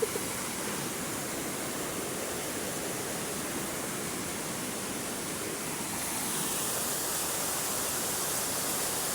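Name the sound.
rushing floodwater from typhoon Ragasa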